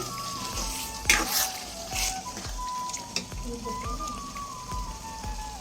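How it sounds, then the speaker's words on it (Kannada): Garlic and garlic paste bubbling in a pan of homemade garlic pickle with tamarind, a steady close crackling sizzle and frequent small pops running throughout, with no talk over it. "ಇಲ್ಲಿ ಈ ಬೆಳ್ಳುಳ್ಳಿ ಮತ್ತು ಬೆಳ್ಳುಳ್ಳಿ ಪೇಸ್ಟು ಇದೆಲ್ಲ ಸೇರಿ ಚೆನ್ನಾಗಿ ಕುದಿಯೋಕ್ಕೆ ಸ್ಟಾರ್ಟ್ ಆಗಿದೆ"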